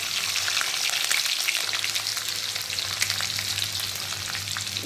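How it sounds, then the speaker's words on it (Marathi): Cumin and finely chopped garlic sizzle steadily in hot oil in a kadhai, a loud, continuous close-up frying hiss with no talk. "आता तेल गरम झालेलं आहे त्यामध्ये मी जिरं घालून घेते"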